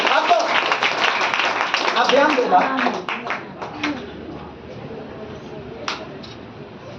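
A church congregation claps loudly together for about three seconds, then the applause fades into scattered claps while a preacher speaks over it.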